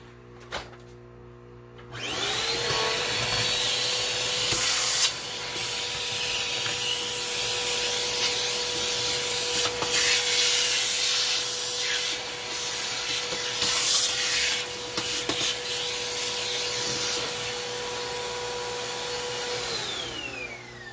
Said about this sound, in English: I'm actually just going to suction up all those flakes